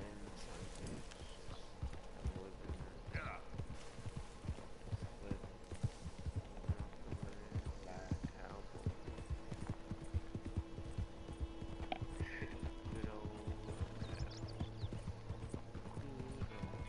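A horse in the Red Dead Redemption 2 video game clip-clops along at a steady, rhythmic pace, hooves clear and close throughout, with faint game ambience and a brief neigh-like sound mixed in.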